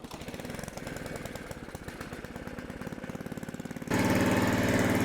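A Simplicity snow blower's small engine runs with a fast even chugging pulse, then surges louder and rougher near the end as the throttle is raised, close by and alone.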